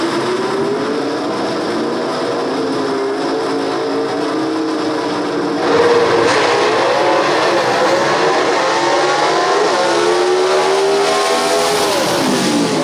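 Drag racing cars launch at Shadyside Dragway, loud engines roaring and revving steadily in close view as they accelerate down the strip, with pitch sweeping through gear changes and no talk over them.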